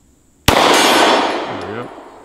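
A single sharp Glock Gen 5 pistol shot cracks loud and close at an outdoor range, followed by a long, slowly fading ring with a faint metallic whine near the end.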